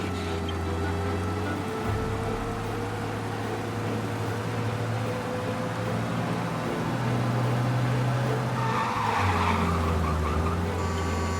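In a fast police chase in Mafia Definitive Edition, a car engine drones loudly and its tires squeal in skids, with engine pitch rising and falling and no speech.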